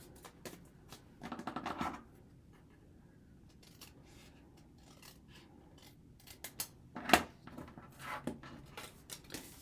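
Scissors trim the back of a craft cup topper up close with crisp snipping cuts, a quick flurry early on and another cluster later, with soft paper rustles between and no talking.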